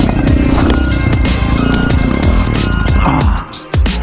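A Suzuki DR650 enduro motorcycle roars loudly and close on a motocross track, its engine revving and shifting pitch continuously before briefly dropping off near the end.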